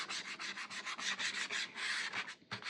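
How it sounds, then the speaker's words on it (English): Sandpaper rubs over dark decor wax spots on a rustic wooden piece in quick, even back-and-forth strokes, close and raspy, with a brief pause near the end before one more stroke. "the places where the decor wax is, the darker spots, you can go in and sand those"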